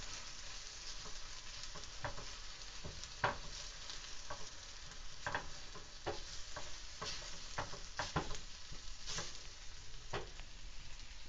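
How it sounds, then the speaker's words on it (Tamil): Garlic and spice powder sautéing in a pan for Madurai-style vathal kulambu, a soft continuous sizzle with repeated light clicks and scrapes of stirring, close and fairly quiet, no talking. "இந்த பொடியையும் இதோடு சேர்த்து நல்லா வதக்கிடுவோம்"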